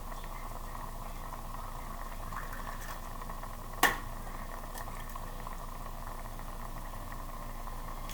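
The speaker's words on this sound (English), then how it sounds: "I'm gonna fry up an egg or two." An egg fries in a pan with a steady, soft bubbling sizzle that runs throughout, broken by a single sharp click or tap midway, no voices.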